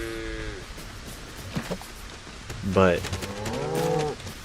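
Cows in the Lego Fortnite survival game mooing, a short low moo at the start and a louder drawn-out moo near the end, with a brief spoken word in between.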